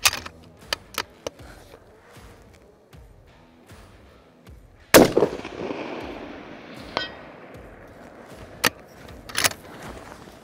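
A single 6.5 Creedmoor rifle shot at a long-range shooting session cracks sharply and decays into a long rolling echo, followed by a few faint metallic clicks and taps.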